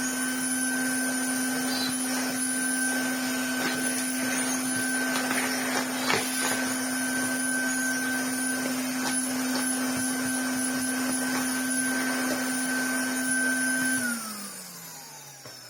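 A vacuum cleaner runs steadily at close range with a loud, constant motor whine and airflow, then spins down near the end; no talk over it.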